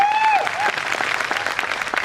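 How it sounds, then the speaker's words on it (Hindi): An audience at a motivational business talk breaks into loud, dense clapping that carries on steadily, with a brief voice heard at the start. "एक बार जोरदार तालियां आप लोगों को।"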